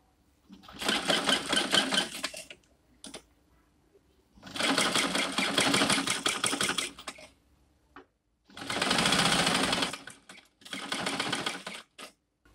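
A sewing machine stitches along the edges of patterned fabric in four bursts of rapid, close, loud needle clatter, with short quiet pauses between runs.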